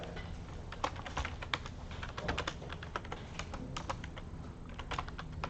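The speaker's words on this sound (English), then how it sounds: "And when I type in bunk bed dimensions" Steady typing on a computer keyboard, a continuous patter of close, crisp key clicks with small irregular bursts and no voices.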